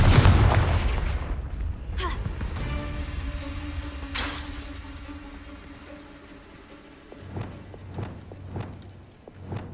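Confringo, an explosive spell in the Hogwarts Legacy video game, opens with a loud blast that rumbles and fades over several seconds. A few sharp impacts and quieter pops follow.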